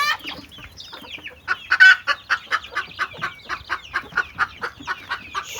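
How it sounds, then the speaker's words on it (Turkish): A flock of village chickens clucks steadily up close, with rapid repeated clucks and a louder squawk near the start. "Şunlar bizim kendi köy tavuklarımız."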